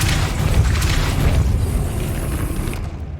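A Depulso force-blast spell in Hogwarts Legacy gives a loud, deep booming burst that rumbles continuously and fades out at the very end.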